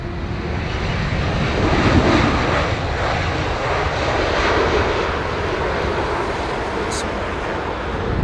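An ex-Virgin Airbus A330 of Thai Airways lands at London Heathrow in southwest winds, a steady, loud jet roar with a broad rushing wash that holds constant throughout.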